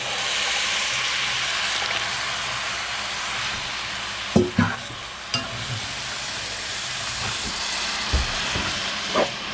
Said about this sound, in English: I'm gonna throw the braising liquid back in